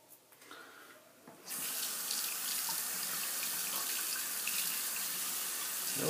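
Hot tap water gushes steadily into a bathroom sink during a wet shave, starting abruptly after a quiet moment and then running loud and close without interruption.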